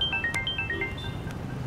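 A mobile phone ringtone plays a short rising and falling electronic melody of several tones, close and clear over a low room hum, with no talking.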